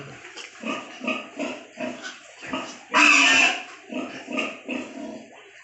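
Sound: pigs on a farm

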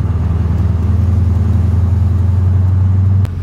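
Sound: Mercedes CLK55 AMG engine droning while cruising

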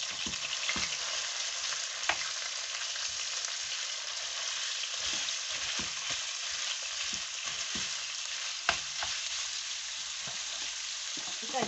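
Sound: stir-frying spring roll filling, oil splattering

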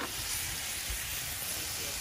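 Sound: bacon sizzling in a pan

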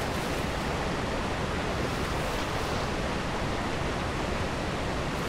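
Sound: waterfall roaring in the video game ARK: Aberration

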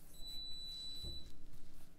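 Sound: dishwasher finished beeping

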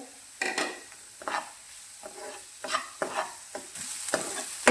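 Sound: onion, garlic and ginger frying in mustard oil

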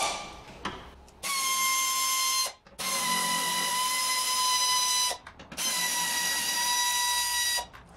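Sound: air tools removing bolts from car air box

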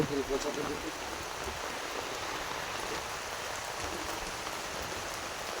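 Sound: rain falling by a river

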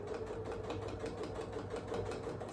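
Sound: sewing machine stitching quilt layers

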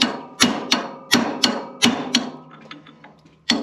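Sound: hammer and chisel removing a Massey 35 tractor bearing seal

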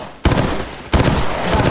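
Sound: gunfire in Apex Legends Mobile video game

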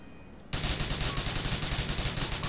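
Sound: gunshots at a tank in video game GTA IV

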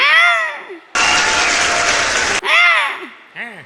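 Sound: audience applause

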